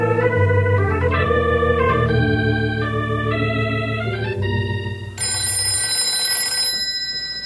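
A telephone rings on an old radio drama, as a sustained bell-like tone over a musical sting that rises and then gives way to a brighter repeated ring.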